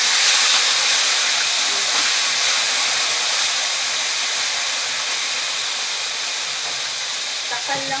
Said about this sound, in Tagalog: gusto ko muna siya nang i-fry ng konti